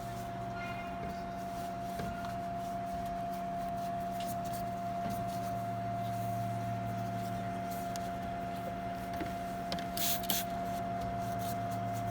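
A disinfectant fogging sprayer works around the perimeter of a building during a COVID-19 fogging and disinfecting service, giving a steady mechanical drone with a constant tonal hum and occasional hissy spray bursts, continuous throughout.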